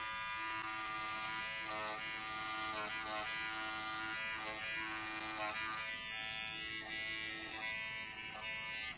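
An electric trimmer shears the pile of a hand-tufted rug, giving a steady, close, high-pitched buzz that wavers slightly as the blades glide through the yarn.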